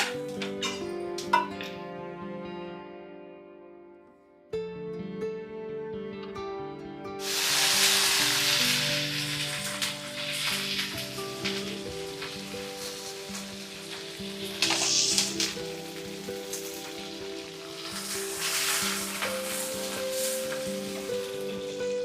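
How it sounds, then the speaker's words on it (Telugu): Peanuts fry in a pan and green chillies are then added, while a steady sizzle runs throughout and grows louder and brighter partway through as the chillies hit the oil. No talk is heard. "పల్లీలు కొంచెం వేగినాయి దోరగా మిర్చి వేద్దాం"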